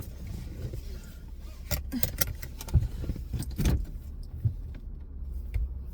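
Keys jangle close by inside a car as it gets underway, with a low engine and road rumble underneath and scattered clinks and rustles.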